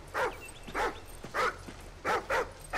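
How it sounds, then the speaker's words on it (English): Riley the dog in Call of Duty Ghosts gives five short, sharp barks at fairly even intervals, close and clear over a quiet background. "What is this dog up to?"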